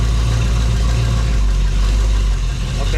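A 1972 Dodge Challenger engine runs steadily at a low, heavy idle while the raised wheels spin off the ground, giving a loud continuous rumble with a slight dip near the end.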